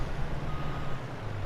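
A truck in Farming Simulator 22 idles with a low engine rumble while a reversing alarm beeps steadily, close and fairly loud, with no one speaking.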